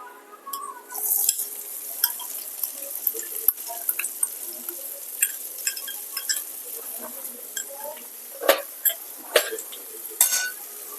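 Chopped onion hits hot oil with browned garlic for a spicy baingan bharta, a soft ongoing sizzle beneath repeated close spatula scrapes and clinks against the pan.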